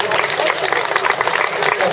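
An audience applauds throughout, a dense, even wash of clapping that stays loud and close from start to finish.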